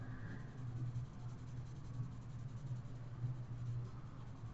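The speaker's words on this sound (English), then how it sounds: "so therefore I'm using a 2B pencil." A 2B pencil scratches on paper in steady, close, soft strokes of shading that repeat in a continuous rhythm, with no talking.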